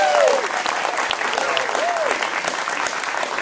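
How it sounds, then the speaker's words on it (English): An audience applauds the recipients at the Windy City Times 30 Under 30 Awards, with sustained clapping from a crowd. A voice speaks briefly over the start. "could I get a round of applause for all of our recipients?"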